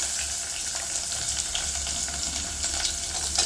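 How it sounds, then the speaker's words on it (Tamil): Onions fry in hot coconut oil, a loud, continuous close sizzle with a light bubbling crackle that holds steady throughout with no voices. "நல்லா ஃப்ரை பண்ணிடுங்க எண்ணெயில்"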